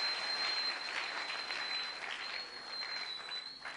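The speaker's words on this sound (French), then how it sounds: "des applaudissements" Church congregation applauding together in a sustained, even wash of clapping, fairly distant and steady throughout with no voices over it.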